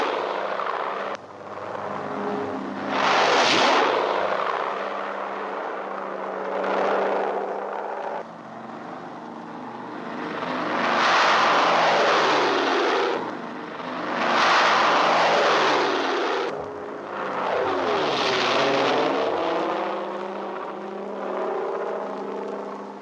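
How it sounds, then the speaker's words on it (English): Several C-47 transport planes fly in formation with piston propeller engines droning. The roar swells and fades in repeated waves as aircraft pass close by, loud and continuous for the whole stretch, with no voices. "the first serials of C-47s follow on the invasion path"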